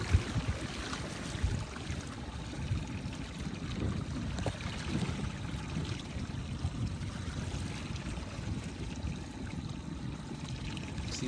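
Choppy water slapping around Laser sailing dinghies during a regatta day, a steady, dense wash of splashing and sloshing with a low rumble beneath, continuous and moderately faint, with no voices.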